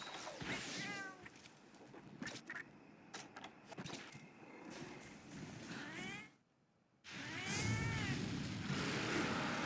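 A cat companion in the hunting game Monster Hunter Freedom Unite, during a fight with the monster Diablos. It gives several short meows over busy game noise and music, and the sound drops out for a brief gap near the end.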